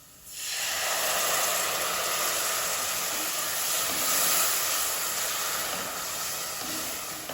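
Tamarind water poured into a hot pan while cooking Hyderabad ulavucharu chicken dum biryani, a loud steady hiss and sizzle bursting up at once and holding for several seconds with no talk.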